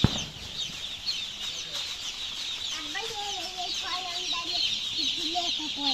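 Young chicks at a new poultry farm cheep and cluck continuously, a busy chorus of many birds close by with occasional wing flutters.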